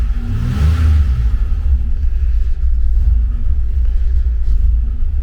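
A car engine idles roughly with a deep, continuous rumble, surging and revving briefly early on, then settling back into an uneven, pulsing idle, loud and close.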